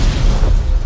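A loud, deep booming blast in a film fills the whole brief moment, a dense rumbling explosion with no talk over it.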